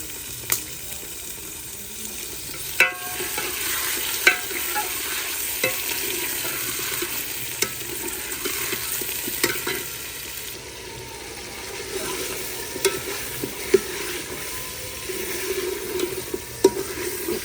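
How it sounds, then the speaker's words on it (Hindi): Chicken and fried onions cooking in a pan in a home kitchen, with a steady sizzle and occasional stirring clatter over about seventeen seconds, close by and with no talk. "यहाँ पे जी फ्राई हो गए हैं हमारे प्याज, और अभी मैं डाल देती हूँ चिकन"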